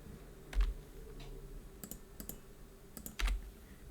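A few computer keyboard keys click sparsely in a quiet room, one firmer keystroke standing out like an Enter press, near and fairly soft.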